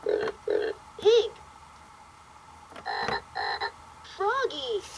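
VTech Turn and Learn Driver toy frog croaks repeatedly in short electronic bursts, close by, with brief pauses between the croaks.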